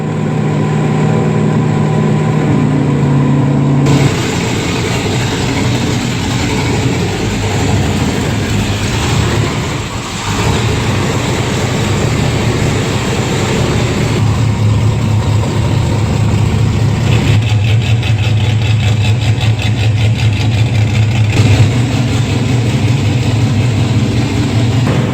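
Mazda Miata with nitrous running hard on a dynamometer, its engine note loud and steady for nearly the whole stretch, with sustained high revving, a brief dip midway and shifts in tone as the pull continues.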